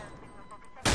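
One loud, abrupt gunshot in Garry's Mod, cracking out at the very end after quiet background noise.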